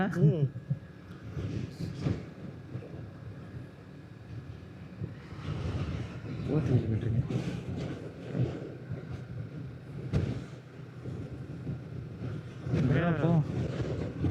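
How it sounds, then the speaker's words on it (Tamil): Strong gusts of wind buffet the microphone with low rumbling bursts while people talk throughout, beside a Yamaha R3 motorcycle. "என்னடா காற்று வண்டி ஆடுது."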